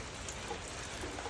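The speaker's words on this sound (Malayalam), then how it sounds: "മഴയാ, എന്നാലും കുഴപ്പമില്ല. മഴ നനഞ്ഞ് വന്ന്" Steady rain falling outdoors during a heavy downpour with wind, a dense, even hiss of drops pattering on surfaces, close and continuous.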